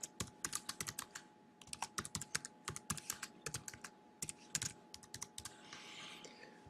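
Rapid, uneven keystrokes on a computer keyboard as a book title is typed, close and clear, with short pauses between bursts and a faint hum underneath.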